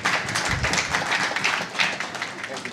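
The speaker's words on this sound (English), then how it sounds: "A round of applause for Mr. Henry." Audience applause for a panel moderator at an entrepreneurship week event on sustainability in business, a steady dense wash of clapping sustained throughout at moderate level.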